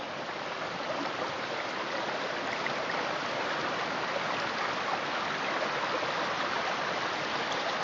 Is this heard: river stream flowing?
yes